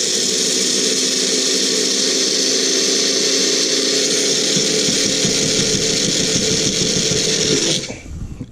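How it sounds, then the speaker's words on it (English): A bullet blender's grinder attachment whirs loudly and steadily as it grinds sunflower seeds, a close high-pitched motor whine that stops abruptly near the end. "So I have my little bullet, this is the grinder attachment"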